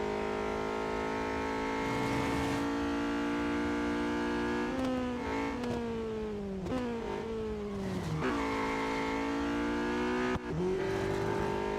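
A car engine in the Real Racing 3 racing game drones loud and steady, its pitch climbing through gears and dropping sharply at shifts, repeated upshifts in a continuous race run without any talking.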